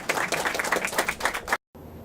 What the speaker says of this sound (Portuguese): E em seus últimos momentos, recebe em troca aplausos.